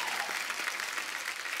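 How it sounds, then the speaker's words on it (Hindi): Studio audience at a comedy talk show breaking into brief, dense applause, many hands clapping together at a steady level. "इनके लिए एक बार जोरदार तालियां हो जाएं।"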